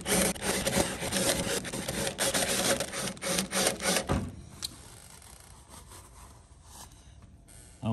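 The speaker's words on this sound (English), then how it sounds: "This is the rivet I'm gonna drill out." A drill bores out a rivet near the static ports during a Sling TSi kit aircraft build, a harsh, close grinding whine for about four seconds that then cuts off, leaving a faint background.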